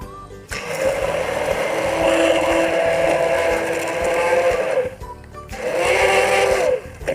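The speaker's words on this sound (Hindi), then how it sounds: "इसको अच्छी तरह ये हम हैंड ग्राइंड से ग्राइंड करेंगे" An electric hand blender whirs steadily as it mixes eggless mayonnaise with salt and sugar, in a loud, close motor drone that runs for about four seconds, stops briefly, then starts again.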